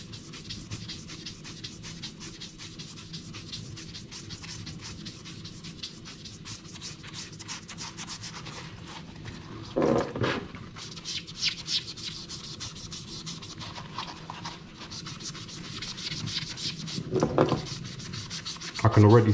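Magic eraser scrubbing the midsole of a sneaker being cleaned for resale, steady close rubbing strokes in a continuous scratchy rhythm, with a few louder bumps and handling sounds, no talking.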